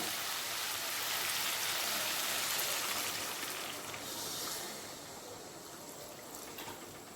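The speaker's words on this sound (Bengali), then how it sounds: "এবার এর মধ্যে দিয়ে দেব পরিমাণ মতো জল" Water pouring steadily into spiced chole masala in a cooking pot, a continuous close splashing hiss that fades slightly toward the end, no speech.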